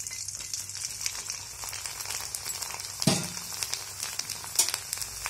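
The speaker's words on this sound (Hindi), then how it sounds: "ये भी देखिए, ऑयल गर्म हो चुका है। अब इसमें हम लोग इसको डालते हैं।" Kachri (tilori) frying in hot oil, a steady bright sizzle and crackle that swells briefly as pieces drop in, close and continuous without talk.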